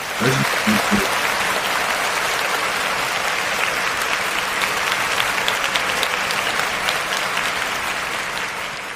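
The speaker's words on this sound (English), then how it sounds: "they deserve a round of applause" A crowd breaks into steady, dense applause that holds loud and even for the whole stretch, with a few sharp claps at the start.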